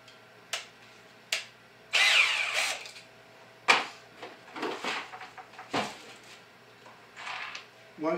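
Black+Decker 20V MAX LDX120C cordless drill driving screws with a Phillips bit, heard as several short close bursts of whirring with pauses between, mixed with speech and handling noise.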